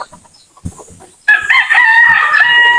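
A fighting rooster, a Texas gamefowl, lets out a loud, close crow that rings out after a second of faint background shuffling and stretches to the end of the clip.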